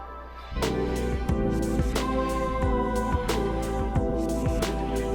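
Vocoder synth driven by a whoosh sound, layered with the original whoosh: a rising airy swell gives way to sustained chordal tones over a steady pulsing beat with regular drum hits.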